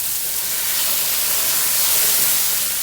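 Bourbon poured into a hot pan of caramelizing onions to deglaze, giving a loud, broad hissing sizzle that holds steady and swells slightly toward the end, with no talk.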